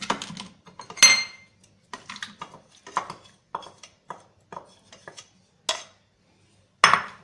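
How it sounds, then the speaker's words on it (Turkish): A shrimp mixture for shrimp buğulama is tipped into a pan, with a run of clattering utensil scrapes and knocks against cookware, close and fairly loud, with a few sharper clanks near the start and end and short quiet gaps between. "Daha sonra hazırladığımız bu karışımı tavamıza alıyoruz."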